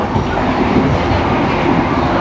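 The Argo Muria train on Java, Indonesia, rumbles steadily along the rails, with a constant low roar and faint rhythmic clatter from the wheels.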